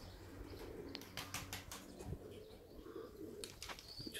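Pigeons coo softly outdoors, with a few brief wing flaps and faint chirps over a low rumbling background.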